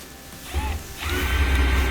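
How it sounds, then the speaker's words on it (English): Screws being tightened on a gas dryer during repair, heard as faint mechanical clicks and ratcheting turns, close and quiet with no talking. "Just tightening up those screws."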